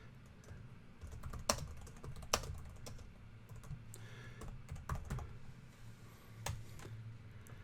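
Typing a comment on a computer keyboard gives soft, irregular key clicks with a few sharper taps, close and quiet, with no speech.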